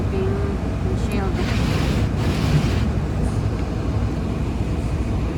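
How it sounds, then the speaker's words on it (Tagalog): Strong wind during a spring snowstorm in a parking lot, rocking a car. A loud, steady roaring buffet continues throughout, with faint hints of a voice beneath it. "Grabe lakas ang hangin."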